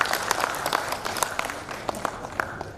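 An audience at a PERADIN national leadership meeting claps in a thin, scattered round of applause, with sharp individual claps standing out irregularly over a soft background wash of clapping.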